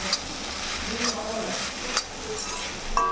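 A spoon stirs mushroom fried rice with spices in a hot pan, steady sizzling under scraping strokes and a few metallic clinks against the pan.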